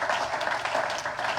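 A church congregation applauds together, a steady dense wash of many hands clapping at moderate level for a moment, with no clear voices standing out.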